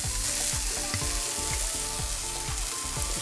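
Garlic frying in oil in a non-stick pan, a dense continuous sizzle with faint stirring scrapes and soft repeated knocks underneath, close and steady.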